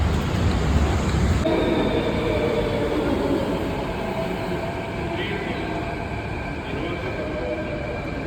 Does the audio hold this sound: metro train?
yes